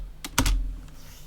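A few quick keystrokes on a computer keyboard, close and clear, a short cluster of clicks followed by quiet.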